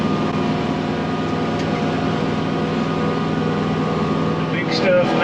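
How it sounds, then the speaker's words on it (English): New Kubota L6060 tractor pulling a RhinoTS 10 brush cutter through tall brush, a steady loud engine drone with constant mechanical hum and a short rise near the end. "I'm highly impressed with how well the tractor's doing"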